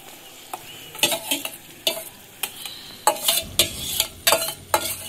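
Spinach greens go into hot oil in a village kitchen pan and are stirred, giving a soft sizzle broken by repeated scraping strokes of a utensil at an irregular rhythm.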